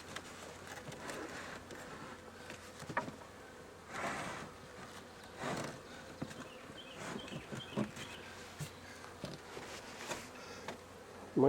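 Bees from a swarm buzz faintly and steadily around a newly placed hive body outdoors, with brief louder swells and scattered thumps but no talk.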